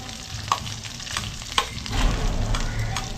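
Garlic hits hot rendered pork fat in a pan, giving a steady close sizzle and crackle with a few sharp spatula clinks against the metal as it is stirred.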